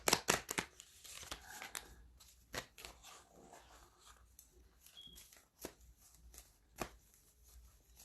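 Oracle cards being shuffled and handled, a flurry of close, crisp papery flicks and taps at the start, then quieter sliding with occasional sharp snaps, soft overall and without speech.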